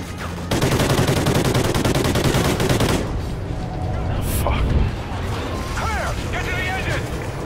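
Heavy automatic gunfire from the video game Call of Duty Ghosts, a loud dense burst for about two and a half seconds, then scattered shots, impacts and game effects with brief voices underneath.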